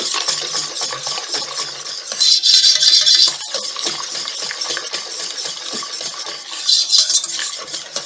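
A utensil stirs a coffee mousse mixture of cream and gelatin in a bowl, making close scraping and clinking strokes with two louder bursts of rapid mixing.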